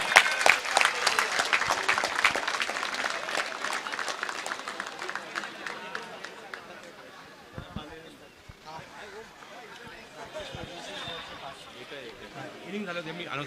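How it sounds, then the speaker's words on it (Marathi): A crowd at a local cricket league match applauding a batsman's innings, dense clapping loudest at the start and thinning gradually, mixed with chatter and a voice talking over it. "त्यामुळे सगळ्यांना विनंती आहे, या बॅटिंगसाठी पुन्हा एकदा होऊन जाऊ द्या जोरदार टाळ्या"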